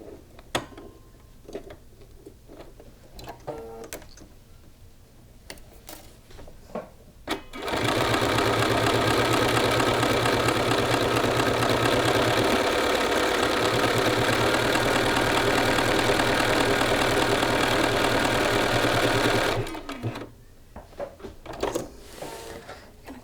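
A home sewing machine stitching a buttonhole on a shirt, a steady fast mechanical whirr with rapid needle chatter lasting about twelve seconds, framed by quieter handling clicks and rustles before and after.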